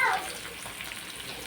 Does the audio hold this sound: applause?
no